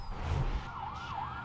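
A fire truck siren from the Driver San Francisco driving game wails in a smooth up-and-down sweep over a low engine rumble, moderately loud with no talk.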